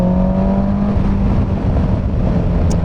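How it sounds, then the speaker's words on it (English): Inline-four motorcycle engine droning steadily at high revs on a damp road, a loud continuous whir with wind rush, holding a smooth even pitch throughout with no voices. "There is nothing I love more than a buttery smooth inline 4"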